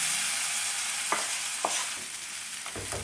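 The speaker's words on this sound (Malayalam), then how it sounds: "ഒന്ന് മിക്സ് ചെയ്ത് കൊടുക്കാം" Roasted spice powder stirred into raw plantain pulikuthi in a hot pan, a Palakkad special: a steady close sizzle with a few soft spatula scrapes and knocks against the pan, no voices.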